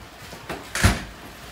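A storm door swinging open onto a covered back patio of a two-story house with a pool, giving a short soft creak and a dull thump, fairly close, with no voices.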